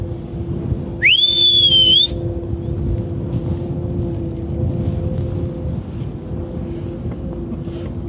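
A person whistles a single bright note on a cruise ship deck, held for about a second, rising then steady, over a steady wind-buffeted outdoor background with a low engine hum.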